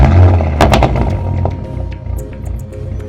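Exhaust of a car fitted with 034 mid pipes and an AWE exhaust, loud and close, with a deep rumble and several sharp cracking pops early on that fade to a lower burble.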